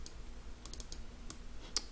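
A computer mouse clicks several times in quick sharp bursts, including a double click, while setting up categories in business software; the clicks sit close and crisp over a faint steady hum, with no talking.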